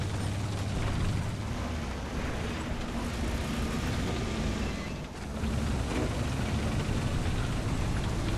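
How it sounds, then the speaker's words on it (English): A tank turret traverses in a World War II tank video game featuring a Tiger, producing a steady mechanical whir and rumble that runs for the whole stretch, dipping briefly partway through. "the sound of the turret traversing"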